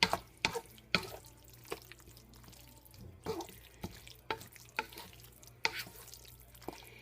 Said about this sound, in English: So just stir this up. Get everything mixed together.